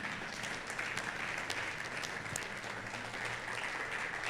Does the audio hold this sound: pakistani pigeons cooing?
no